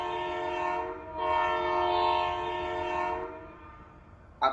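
A train horn blows in a long, steady, layered tone that swells in the middle and tapers off, over a low rumble of the running train, ending with a sharp click.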